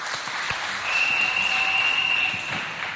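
An audience claps for a special act at a 63rd anniversary celebration of the Republic of Chad. The applause is a sustained, dense patter, swelling slightly in the middle, with a faint whistle over it.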